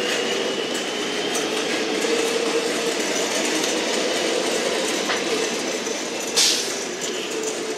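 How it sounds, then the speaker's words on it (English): A Melbourne Metro train pulls out of Holmesglen station, a steady, loud rumble of wheels and rolling stock with faint clickety-clack, and a brief squeal near the end. "Glen Waverley service departing."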